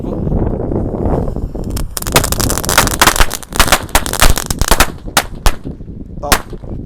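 Mercon God Pro firecrackers lit inside a bucket go off in a loud, dense rattle of rapid cracks lasting several seconds, then thin out into a few scattered final bangs, with a voice faintly heard at the start.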